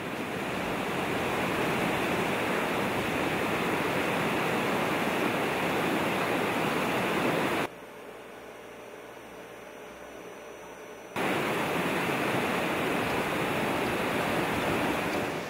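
River water rushing at the Poudre River intake structure for a city water treatment plant, a loud, steady broadband roar that cuts out abruptly for a few seconds midway, then resumes.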